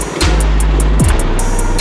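A homemade buggy built from PVC pipe drives and tries to drift, its engine a loud, steady close drone that shifts pitch briefly partway through.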